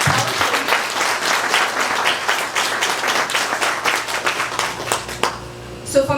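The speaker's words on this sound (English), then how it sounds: "So maybe we can give a round of applause." Audience at a book launch applauding in a dense, steady burst of many hands clapping, loud and close, tapering off near the end with faint voices underneath.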